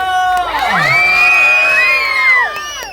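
Festival crowd at Hampi Utsava cheering, whooping and shouting in a loud, sustained roar near a stage, with high children's voices rising and falling over three seconds.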